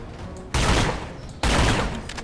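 Two long bursts of rapid automatic gunfire in the video game The Chronicles of Riddick: Escape from Butcher Bay, loud and close, separated by a short pause, with game sound continuing faintly underneath.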